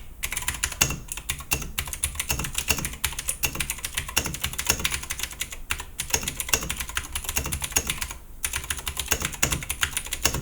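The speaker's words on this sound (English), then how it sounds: "Let's do a little sound test of the entire keyboard." Continuous typing across an Akko 3084 Bluetooth 75% mechanical keyboard, a dense run of crisp, close keystrokes with brief pauses, loud and alone.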